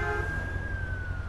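An ambulance siren wails in Driver San Francisco, a steady high tone gliding slowly downward over a loud rumbling engine and road noise, continuous throughout with no voices.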